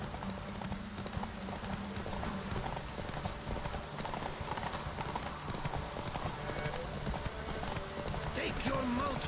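Roach, Geralt's horse in The Witcher 3, galloping at full speed, with rapid steady hoofbeats over game ambience, a brief whinny near the end, and a voice speaking over it.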